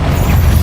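A short, loud fiery boom from a Confringo fire spell in Hogwarts Legacy, a dense low-heavy blast with no talking.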